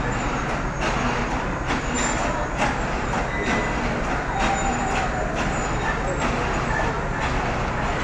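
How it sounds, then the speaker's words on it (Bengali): A passenger train pulls slowly out of Joydebpur station bound for Tangail, giving a loud continuous rumble with rhythmic wheel clunks and occasional squeals, close by and steady throughout. "ধীরে ধীরে ছেড়ে যাচ্ছে টাঙ্গাইলের উদ্দেশ্যে ট্রেনটি।"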